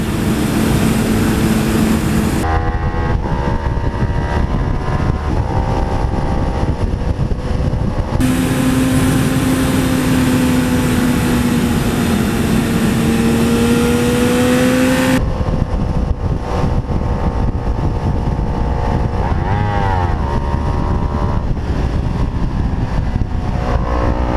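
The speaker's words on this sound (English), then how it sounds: "Third gear is a good gear for this bike." A Kawasaki Ninja 300 motorcycle riding in third gear, its engine droning loud and close with steady rising and falling pitch, thick wind rush throughout, and no talk.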